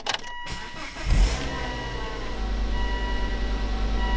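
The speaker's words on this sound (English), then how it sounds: "if you see now what happens when I turn on the car" A Volvo V70 being switched on with a dead gauge cluster: a short electrical whir and clunk, then a steady low hum and faint tones that carry on under the cabin, with no talking.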